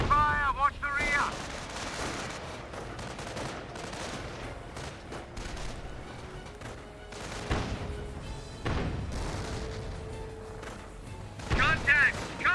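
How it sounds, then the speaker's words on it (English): Small arms gunfire in the real-time strategy game Company of Heroes, scattered rifle and machine-gun bursts with crashing impacts over battle ambience, a voice talking over it. "Taking small arms fire. Heavy fire, watch the rear."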